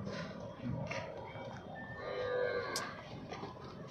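Cattle moo faintly in the distance over a steady outdoor background hum, with a few soft lowing calls and scattered minor noises, at a cow farm with cows, calves and bulls in Rohinjan, Navi Mumbai.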